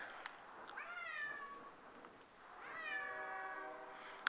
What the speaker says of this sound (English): he's going to be meowing a lot